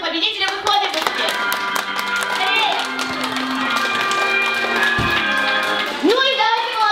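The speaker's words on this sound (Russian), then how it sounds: "Аплодисменты победителя выходит быстрее." Campers at a dance camp clap and cheer for a contest winner, a loud, sustained crowd noise of applause mixed with shouting and music for several seconds.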